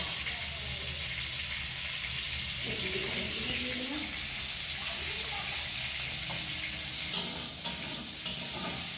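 Onion and nigella seeds frying in hot oil for a prawn and potato curry, a steady loud sizzle with faint stirring, a voice talking softly underneath and a few sharp clinks near the end.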